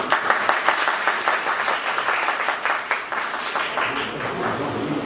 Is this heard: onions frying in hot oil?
no